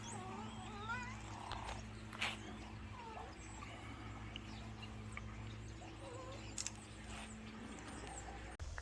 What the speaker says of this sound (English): Such a loud kitty.